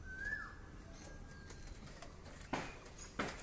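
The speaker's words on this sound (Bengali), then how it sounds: "এটা একটা জোড়া পায়রা, খুব ভালো পায়রা।" A pair of fantail pigeons in a breeding loft gives a faint, brief coo near the start, followed by soft flutters and taps in a quiet space.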